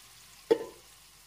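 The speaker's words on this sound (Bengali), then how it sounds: "এবার সাথে ডালটা ঢেলে দিচ্ছি।" Boiled lentils poured into a hot frying pan give one short, sudden splash and sizzle that quickly fades, close and fairly quiet against a still background.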